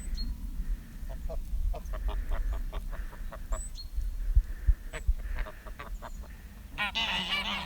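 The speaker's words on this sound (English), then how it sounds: "So beautiful, that wild goose there with the white head." A wild goose with a white head honks near a farm, repeated short nasal calls in an irregular series over low rumbling background noise, with a louder burst of honking at the end.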